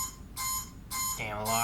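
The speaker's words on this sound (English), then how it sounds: "Oh, that's what the beeping is, because of oxygen level?" Repeated electronic alarm beeping from the film The Martian, tied to a falling oxygen level: long bright tones in a steady on-off pattern, with a voice speaking over the last beep.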